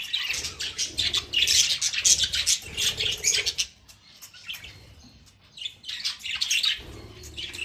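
Dense bursts of high budgie chirping and chattering from an aviary come in waves, with a short lull in the middle, busy and close.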